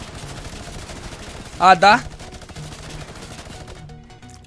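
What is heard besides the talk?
minigun firing in the video game Fortnite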